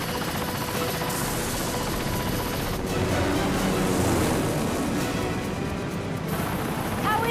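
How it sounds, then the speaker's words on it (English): Helicopter in Ninja Gaiden II Black, a steady loud rotor and engine roar filling the whole stretch without letting up, with no voices over it. "Oh no, a helicopter, we must destroy it."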